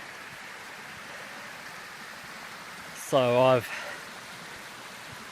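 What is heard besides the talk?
stream water running along the trail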